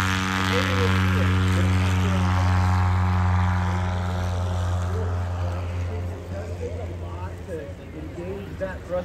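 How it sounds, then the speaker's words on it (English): A Husky airplane's propeller in reverse thrust gives a loud, steady droning buzz that holds for several seconds and then wavers and eases slightly, with voices faintly in the background. "He's got some reverse thrust."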